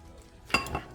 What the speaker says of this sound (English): I got a clean set of tongs. And I'm just going to go ahead and add some lettuce to the plate.